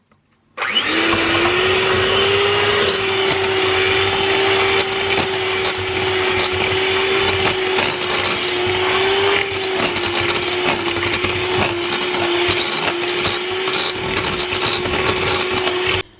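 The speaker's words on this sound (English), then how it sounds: "And then I need to get my whisk on, don't I?" An electric whisk creaming carrot cake mixture in a home kitchen, a loud steady motor whine that starts abruptly and runs continuously with a grinding, rattling texture.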